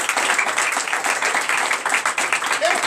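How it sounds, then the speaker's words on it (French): A church congregation applauds in a steady, fairly dense burst of clapping that carries on without pause for a few seconds. "ça demande à applaudir encore"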